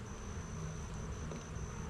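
Honey bees buzz in a steady, low drone while an October hive is opened for inspection, with fresh drawn wax on the frames; the hum stays fairly soft and even throughout, with no voices.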